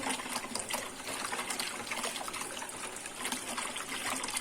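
Water pours into a homemade lemonade mixture while it is stirred, a soft continuous trickle and splash, close but quiet, with no speech.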